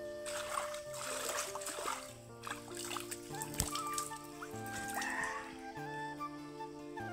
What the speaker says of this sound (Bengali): মুখটা ধুয়ে নিয়ে তবে অবশ্যই পরিষ্কার জলে মুখ ধুতে হবে।